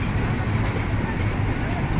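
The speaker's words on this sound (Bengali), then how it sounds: "জয়দেবপুর রেল স্টেশন থেকে ছেড়ে যাচ্ছে" A Bangladesh Railway intercity train pulls out of Joydebpur station with a loud, steady rumble and wheel noise close by, continuous across the short stretch.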